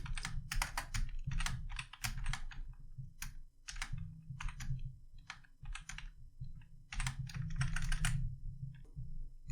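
Someone types HTML code on a computer keyboard, with rapid, close, crisp key clicks in uneven bursts and short pauses between them.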